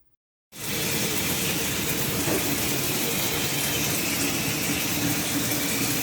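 Water gushes from a tap at full pressure after a fixed kink in the supply line, starting abruptly after a moment of silence and then roaring as a loud, steady hiss with no letup.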